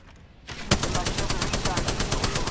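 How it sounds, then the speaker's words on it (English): Rapid machine-gun fire from enemies in Apex Legends, a fast, evenly spaced burst of loud close shots that starts abruptly and runs without pause. "The enemies are shooting at me."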